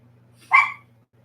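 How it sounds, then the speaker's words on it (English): A single sharp bark from a pet dog indoors, close and clear against a quiet background hum. "Sorry about the dog."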